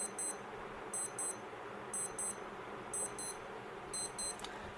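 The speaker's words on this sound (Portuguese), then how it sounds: "Se você pressionar e segurar, você faz o teste do alarme, tá?" Casio W-217H digital watch alarm test: high, shrill double beeps repeating about once per second, faint against steady room noise.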